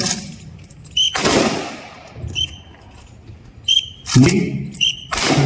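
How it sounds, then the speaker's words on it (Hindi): Blank rounds fired by a rifle squad at a CISF induction ceremony, several sharp loud reports ringing out across an open parade ground, with an announcer's voice over the public address. "ये जो बुलेट्स यूज हो रही हैं ये ब्लैंक फायर राउंड है"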